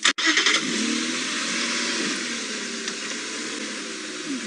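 A safari vehicle on a morning game drive starts with a sharp crank, then its engine revs high and holds a loud, steady roar close by.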